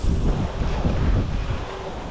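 Strong wind buffets the microphone of a cyclist riding through a storm, a loud continuous rumbling roar with no voices.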